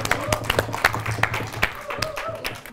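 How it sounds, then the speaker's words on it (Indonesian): Studio audience at a televised quiz show giving a round of applause, with sharp scattered claps over a continuous patter. Voices talk beneath the clapping throughout. "Tepuk tangan dulu."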